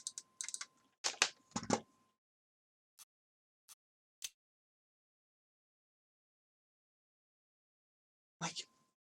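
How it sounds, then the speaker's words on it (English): Controller button clicks during play of the PS2 game Jurassic: The Hunted, a quick cluster of sharp taps followed by three isolated clicks and one more burst after a pause, quiet and close. "you can hear me clicking"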